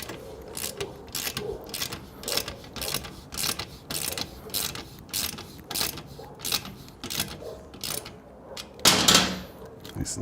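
A ratchet tightens heat shield bolts on a Triumph Bonneville T100/T120 exhaust, close rapid clicking bursts repeating in short strokes, fairly quiet, with a sharper burst near the end.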